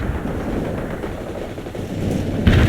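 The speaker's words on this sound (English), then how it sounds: "Mortar barrage delivered." Mortar barrage in a war video game: a continuous rumbling roll of distant explosions and gunfire, swelling to a louder blast near the end.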